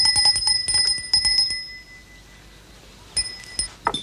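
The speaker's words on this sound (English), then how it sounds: "Harry, could you see why they aren't answering the bell?" Servants' call bell in a period drama household, rung in quick bright metallic dings in bursts, clustered early, then a pause, then a few more rings near the end.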